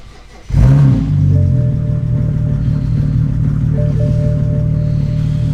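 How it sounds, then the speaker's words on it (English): A straight-piped BMW 335i engine cold-starts with a sudden loud roar, then settles into a steady, rumbling idle that stays loud. "it starts up pretty loud like a traditional cold start"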